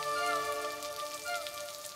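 Steady rain hisses and patters on a surface, with a faint tonal hum mixed in.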